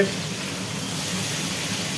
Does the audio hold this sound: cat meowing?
no